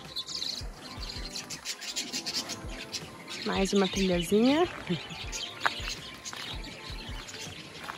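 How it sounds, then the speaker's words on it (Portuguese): Birds chirp and call intermittently in the countryside while a person speaks briefly nearby in Portuguese, with some rustling in the background. "Aqui os nossos passarinhos. Ó que delícia."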